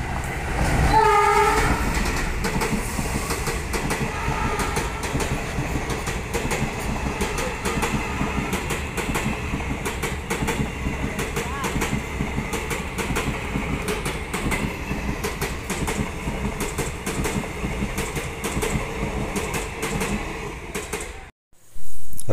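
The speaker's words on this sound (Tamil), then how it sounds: "ரயில்வே ட்ராக் பக்கத்தில் வளர்க்குறதுனால ட்ரெயின் வந்து அடிக்கடி போய்கிட்டே இருக்குது" A train passes close by on a nearby railway track beside an old mud-wall building under demolition, with a steady loud rumble and clatter that lasts about twenty seconds before cutting off sharply.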